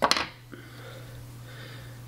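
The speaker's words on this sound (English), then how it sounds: "come in with your scissors cut off all that excess" A quick pair of sharp snips from scissors trimming excess material while tying a chironomid fly, followed by a faint click over a low steady hum.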